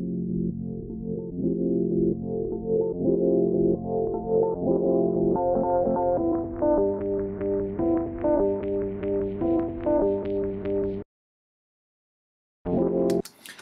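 An Ableton-produced beat plays a looping synth pattern whose automated filter gradually opens, letting brighter high end climb back in over several bars before it cuts abruptly to silence and briefly restarts.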